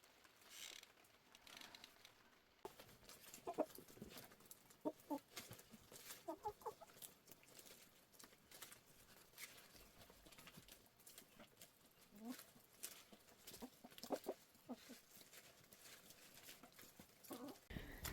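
Backyard chickens peck and cluck softly over a pile of bok choy on a cold, rainy late-spring day, a steady scratchy busy texture of small clicks and low clucks throughout, fairly quiet and close.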